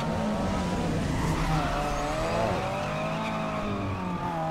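A car engine over-revs in the Need for Speed Underground 2 racing game on Xbox. The tone climbs and wavers steadily for several seconds at a constant close loudness, with a faint tire-squeal hiss underneath.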